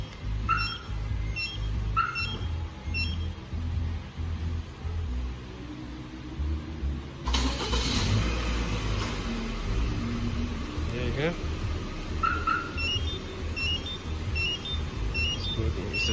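A few short key fob chirps, then a 2017 Subaru Forester's engine starts by remote partway through and settles into a steady, close idle rumble, with more chirps near the end.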